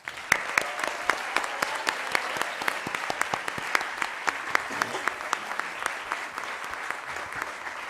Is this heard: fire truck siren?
no